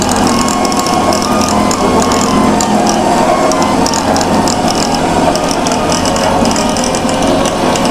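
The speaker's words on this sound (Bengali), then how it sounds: "এই যে আমাদের ক্রিম সেপারেটর মেশিন" A hand-cranked cream separator machine whirs steadily with a dense, continuous mechanical ratcheting of gears, loud and close throughout without pause.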